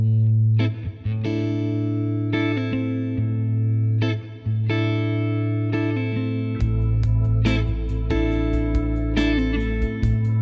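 Electric guitar through a Pentafocal tremolo and a Violator delay pedal, playing repeated chords that pulse and echo, then shifting partway into fast, choppy stuttering modulation, loud and continuous with no talking.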